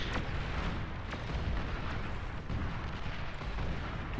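Explosions from a bombing run in a military video game rumble as a dense, continuous low roar, with sharp booms and bursts cracking through the steady din.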